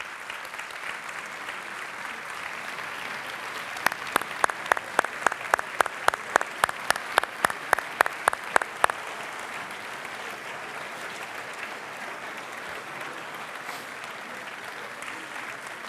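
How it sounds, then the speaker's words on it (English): At an upper school prize day, a steady wash of audience applause for student leaders runs throughout, with a burst of louder, evenly spaced sharp claps near the middle before settling back into steady clapping. "I would ask that all of our student leaders please stand for a round of applause"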